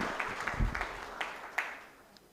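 Brief, fairly quiet applause from an awards ceremony audience, scattered claps with a couple of louder bursts that thin out and fade within a few seconds.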